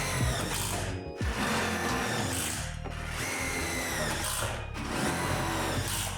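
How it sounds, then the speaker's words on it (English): A power drill drives self-tapping screws into a truss brace on a Lifetime 8' x 20' outdoor storage shed, with several loud, close whirring runs that cut off briefly between screws and no voices. "Then secure with the self-tapping screws through these holes on each side."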